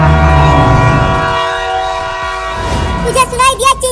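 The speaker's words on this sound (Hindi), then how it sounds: "ट्रेन आ रही है। अभी अभी वो सीटी मारी।" An approaching train sounds a loud, sustained horn over a heavy rumble of rolling wheels, the tone wavering toward the end as it draws nearer.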